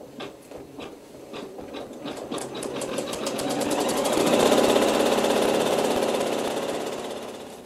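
A sewing machine runs a basting stitch through background fabric over wool batting on a quilt, its rapid needle clatter speeding up into a steady loud mechanical whir that swells and then eases slightly, close and without talk.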